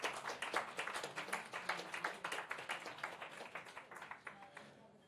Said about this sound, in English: So a very warm applause to Tuukka